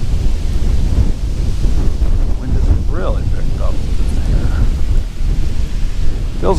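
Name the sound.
strong wind blowing on a lake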